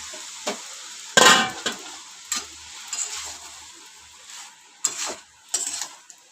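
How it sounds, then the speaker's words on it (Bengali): Pasta is stirred into soy sauce and tomato ketchup in a pan: a soft sizzle with scattered scrapes and clinks of the utensil at irregular moments, fairly quiet and close. "এবার এটা মিশিয়ে নিয়ে এর মধ্যে আমি পাস্তাটা দিয়ে দেবো"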